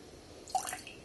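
A small splash of water drips from a tipper into a glass of Paddy Irish whiskey, one soft close liquid plink with a faint trickle after it, alone in a quiet room.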